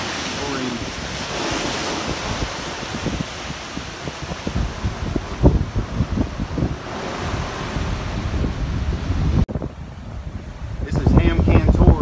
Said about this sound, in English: Look at the waves, look how high they are. The wind's coming really, really hard.